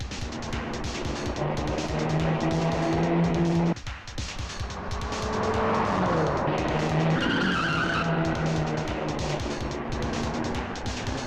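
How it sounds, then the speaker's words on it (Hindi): Movie car chase with a car skidding and tires squealing as it speeds away, a loud continuous engine roar with a brief dip midway, then revving up again, no talking. "वो देखो गाड़ी जा रही है।"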